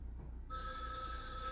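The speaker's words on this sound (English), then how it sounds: "Another phone call." A telephone rings in a video game, a steady electronic bell tone that starts abruptly partway in and holds loud and continuous over a low background hum.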